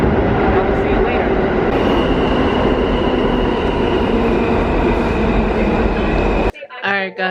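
A train rolls into a station after a snowstorm, a loud, close, continuous rumble and rattle of rail cars lasting several seconds before cutting off abruptly to near quiet, with a voice at the very end.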